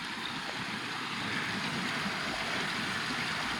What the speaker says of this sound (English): A lot of water flowing there.